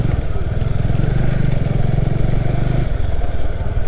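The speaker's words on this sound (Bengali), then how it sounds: "আমি যেমন বাইক চালাচ্ছি, আরও 10 জন চালাচ্ছে" A motorcycle engine hums steadily while being ridden through traffic, loud and close throughout, with wind rumble.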